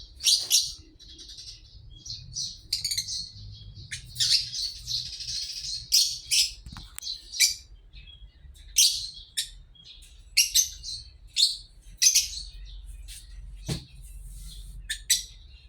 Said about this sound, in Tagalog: At saka kahit papaano makarinig tayo ng mga huni ng ibon.